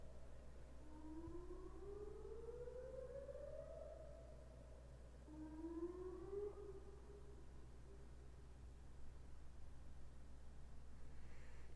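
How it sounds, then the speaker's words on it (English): A distant town siren wails in a couple of long rising and falling sweeps, then trails off, leaving only a steady low background hum, with no voices. "That's the fucking town siren now."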